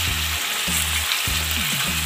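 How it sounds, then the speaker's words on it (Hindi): Chicken pieces with ginger garlic paste fry in a karahi with a bright, loud, constant sizzle, and a low repeating hum recurs under the crackle every half second or so, without talk. "ये डाल के हम तकरीबन 3 मिनट मज़ीद इसको भूनेंगे।"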